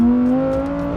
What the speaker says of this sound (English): that's why I've been going on and on about the exhaust note in this car